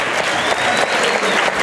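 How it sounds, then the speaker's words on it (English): An audience at a hypnosis show applauds, dense steady clapping from a crowd heard close and loud for the whole stretch. "This applause is for you."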